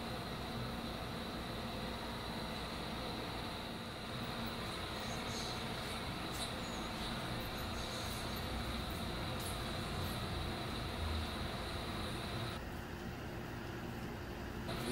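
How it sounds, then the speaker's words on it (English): A model train rumbles and clatters steadily along layout track for a long stretch, exiting a return loop, with occasional faint clicks and squeaks. "here the train is exiting the return loop"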